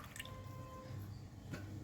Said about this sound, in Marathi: पाणी शिंपडून घ्यायचं आहे.